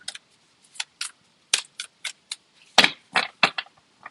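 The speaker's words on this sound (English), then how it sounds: "The cards aren't shuffling very well because everything is damp." Crisp, rapid riffling and snapping of damp tarot cards in humid air in short irregular bursts, close up and dry, with brief pauses between shuffles.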